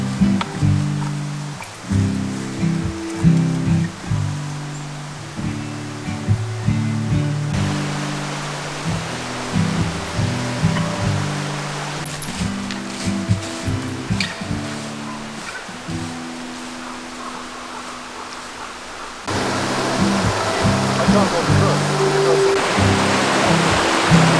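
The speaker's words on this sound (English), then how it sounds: "We usually cross the river here, but it has been raining so much, there's no way." A river swollen after heavy rain rushes past in a constant broad roar, loud and close, with footsteps and rustling on top.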